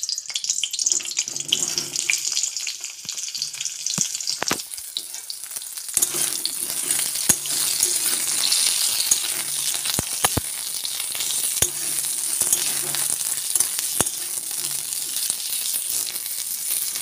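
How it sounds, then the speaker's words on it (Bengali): Pointed gourd (potol) pieces frying in hot oil in a wok give a steady close sizzle, with sharp clinks of a spatula against the metal and a faint low hum underneath. "তারপরে যে পটলগুলো আছে পটলগুলো ভালো করে ভেজে নেব"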